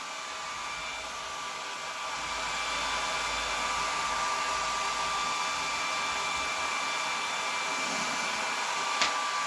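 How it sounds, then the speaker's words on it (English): A hair dryer blows steadily and continuously at close range, melting crayon, a constant whirring hum that holds for several seconds with no talking. "You don't have to use the hair dryer"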